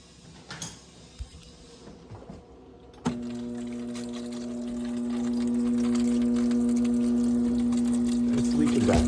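Water dispensing from the door of a Frigidaire five-door refrigerator: a click, then a steady pouring stream that grows slightly fuller and runs continuously, close by, with faint household handling noises before it starts.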